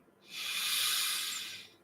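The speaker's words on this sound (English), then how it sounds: "Breathing in," A slow, deep breath drawn in during a calming breathwork exercise for anxiety, a soft airy hiss that swells smoothly and fades over nearly two seconds, close and alone with no talking.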